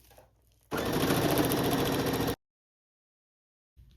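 Sewing machine stitching a fabric slow cooker carrier: one steady mechanical whirring run of about a second and a half, close and even, starting and stopping abruptly.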